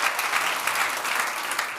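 Many hands clap at a user-community conference plenary session, a thick, continuous ripple of applause at fairly loud volume that holds steady and tapers only slightly at the end, with no talking.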